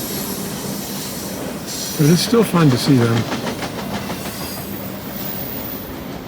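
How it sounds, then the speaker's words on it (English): BNSF double-stack intermodal freight train passing at Carkeek Park in Seattle, loud and close, with steady rumble, wheel squeal and clickety-clack of the cars; a voice speaks briefly over it. "And there's the end of our train."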